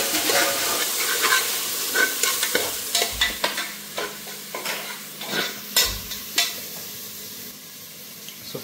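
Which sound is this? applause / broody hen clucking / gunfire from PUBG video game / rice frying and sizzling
rice frying and sizzling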